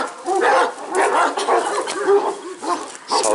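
Kangal dogs bark in quick, overlapping bursts close by, with higher yips and whimpering mixed into the loud, irregular volley.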